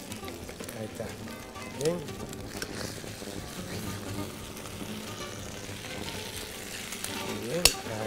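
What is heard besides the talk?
sofrito frying and being stirred in a pan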